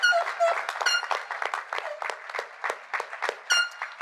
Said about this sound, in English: Please give a final round of applause for our 2023 Senior Honors graduates.